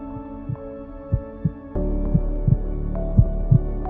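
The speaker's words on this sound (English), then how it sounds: "At first, it was just the beat of my own heart." A heartbeat thumps in a slow, regular rhythm over a low steady hum, each beat a soft close double pulse, with no other sounds.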